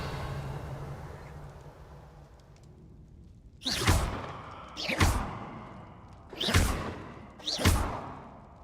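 Four Revelio spell casts in Hogwarts Legacy, each a sharp whooshing pulse with a low thump, spaced about a second apart over a quiet ambient hum.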